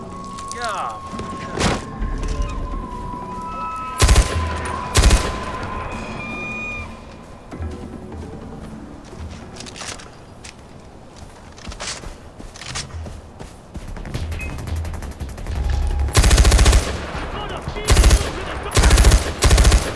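Gunfire in the Far Cry 4 video game, with several loud bursts of automatic fire and single shots spread across the stretch over a dense background of game noise, with quieter gaps between the volleys.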